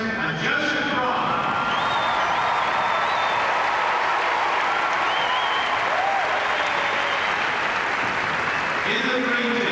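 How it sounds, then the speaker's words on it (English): A 1995 television game show studio audience cheers and applauds steadily for contestants, a loud continuous wash of clapping with whoops, while a host talks over it. "Please give a big cheer to Nadira Rodriguez and Joseph Braun."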